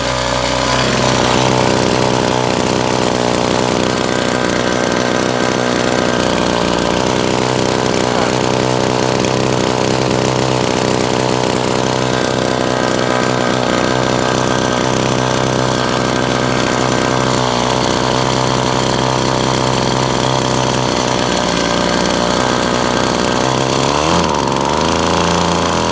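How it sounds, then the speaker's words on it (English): A whipper snipper two-stroke motor rigged as a generator runs steadily under load, a loud continuous buzzing drone with a labouring edge that wavers slightly near the end. "You can hear a bit of strain on the motor"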